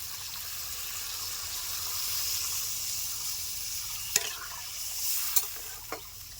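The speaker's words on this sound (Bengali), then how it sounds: "এবার আমি দিয়ে দিব পরিমাণ মতো জল" Water poured into a pan of sautéed vegetables, a steady hissing wash of sound, fairly quiet and close, followed by a few brief clinks near the end with no talking.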